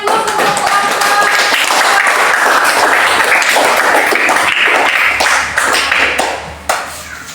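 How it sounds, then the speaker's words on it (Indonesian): A classroom audience claps steadily for a presenting group. The dense, loud applause keeps up for several seconds, then thins out toward the end. "kasih aplaus untuk teman-teman"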